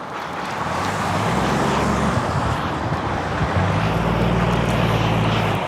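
A steady, loud roar of road traffic with engines rumbling past nearby, constant and continuous throughout.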